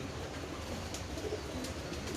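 Prized fancy pigeons coo softly in a loft, low and faint beneath steady background noise.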